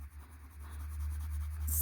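A crayon moves across thick sketchbook paper in a soft, quiet, continuous scratchy stroke, heard close and alone.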